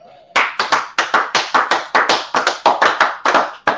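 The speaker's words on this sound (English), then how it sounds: "Clap it up" A group clapping in unison, about twenty sharp, evenly spaced claps in a steady fast rhythm, loud and close, with no talking over them.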